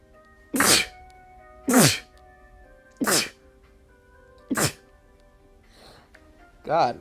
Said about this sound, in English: I don't know why I'm sneezing like this